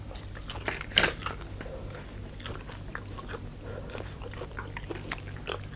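Someone eats a pounded long-bean salad with fried chicken late at night, with close, wet chewing and crunching throughout and one sharp, crisp bite standing out near the start. No one speaks.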